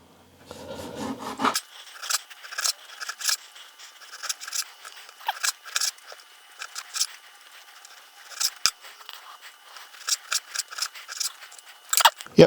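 A knife slices beef across the grain on a board in a run of crisp, quick cutting strokes, close and fairly loud, each a short scrape with brief pauses between.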